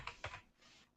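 Two quick keystrokes on a computer keyboard, pressing Shift and Enter, are close and crisp, followed by a faint rustle.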